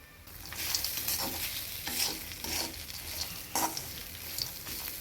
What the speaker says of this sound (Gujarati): બધાને સરખું મિક્સ કરી લઈએ